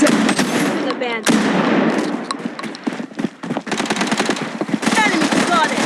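Rapid automatic gunfire and bursts of shots in a shooter video game battle, loud and continuous with dense crackling volleys, mixed with brief game voice callouts.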